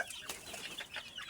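Dense flock of baby chicks cheeping together with high, overlapping peeps at close range, alongside adult chickens on a farm, steady and busy throughout with no talking.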